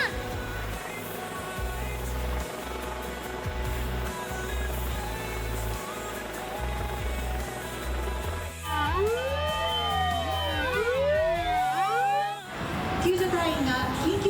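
Several wailing fire engine sirens rise and fall over each other amid a steady rumble, arriving after a stretch of engine noise and background chatter at a firefighting drill.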